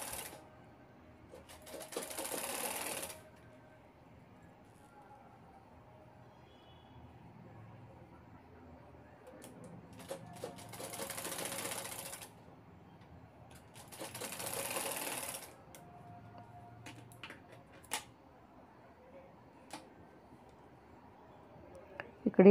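A home sewing machine stitches a piping strip onto a bag zipper, running in three short motorized bursts with quiet pauses and small clicks and handling noises between them.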